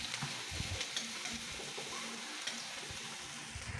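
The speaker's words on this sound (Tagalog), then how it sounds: "kailangan mo na medyo mag brown brown ng ating mga sibuyas at saka bawang" Onions and garlic sauté in a hot pan for a Filipino pinakbet, a steady close sizzle with the scrape and clatter of stirring running through it.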